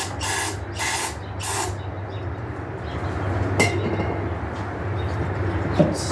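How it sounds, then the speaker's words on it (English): Brake cleaner sprays from a can onto an air filter of a John Deere riding lawn mower in three sharp hissing bursts at the start, followed by quieter handling noise and a couple of clicks. "Brake clean should help that out."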